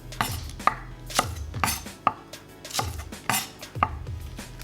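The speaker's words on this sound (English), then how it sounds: "just cutting up some green onions here." A knife chops green onions on a board, about eight firm, evenly spaced thuds at close range with no talking in between.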